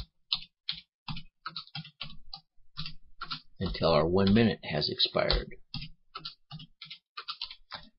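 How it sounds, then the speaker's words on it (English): Rapid keyboard typing clicks in quick bursts, close by, with a person speaking briefly in the middle. "So we go ahead and continue typing"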